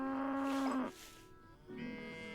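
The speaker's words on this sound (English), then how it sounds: "We have a whole army of cows" Cows in the farming game Coral Island moo, one drawn-out call ending in a falling tail, then a softer second moo begins, close and with no talking.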